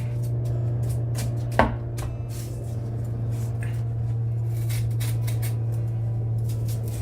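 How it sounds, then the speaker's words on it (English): Pithy white core of a sunflower stalk being scraped out gives soft crisp rasping strokes and one sharper crackle, heard close over a steady low hum. "So I'm going scraping it out here"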